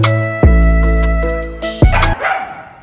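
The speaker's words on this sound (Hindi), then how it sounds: "तू क्यों भौंक रहा है, तू क्यों भौंक रहा है?" A dog barks indoors at home: two loud, close barks, the first drawn out and the second shorter, followed by fainter yips and whimpers.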